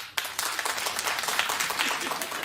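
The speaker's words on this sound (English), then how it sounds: "By a show of claps to the moms in the audience, do you like the under 5 years?" A television talk show studio audience claps together, producing a dense flurry of sharp hand claps that starts abruptly, stays loud and steady, and rises to a brisk patter throughout.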